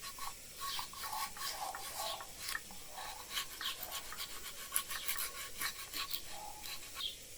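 Sandpaper wrapped on a small stick rubbing into the corners of an alabaster stone carving of an oak tree, a steady, soft rasping scrape in repeated short strokes, close and quiet.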